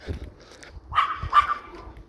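A very large dog barks a few times up close, loud deep woofs rising into strained higher yelps, with faint background noise and no talk over it.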